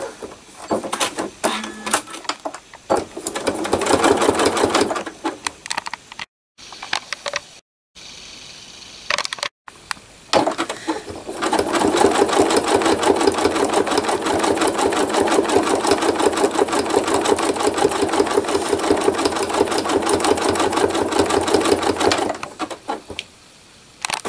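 Sewing machine doing straight stitching for thread art, a close, rapid mechanical chatter in long bursts with short pauses between runs, then one sustained steady run through the second half.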